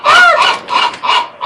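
Seagulls on a balcony give loud, close honking calls, three or four harsh squawks in quick succession with no talking.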